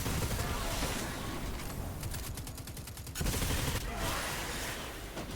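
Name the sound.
SMG gunfire in video game Destiny, Tarrabah weapon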